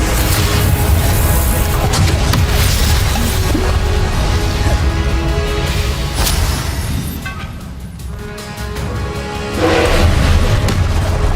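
Confringo blasting spells fired in Hogwarts Legacy land as loud, dense booming bursts over continuous game music and effects, with a brief dip in intensity before another heavy blast near the end.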